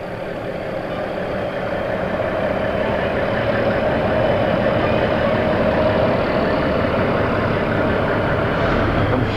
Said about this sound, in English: Three nice bright yellow trucks here from the Malone Fire Department